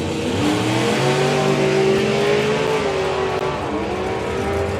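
A Corvette drag race car from France launches hard and screams down the strip at an FIA/FIM drag racing event, a loud, sustained engine roar with rising pitch that wavers slightly near the end, no voices over it.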